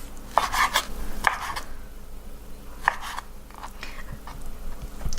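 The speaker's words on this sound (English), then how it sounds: "And then I'm going to cut it in slices." A knife slices through steak on a cutting board for shaken beef, giving several distinct, crisp cutting strokes in uneven bursts, close and clear with no talking.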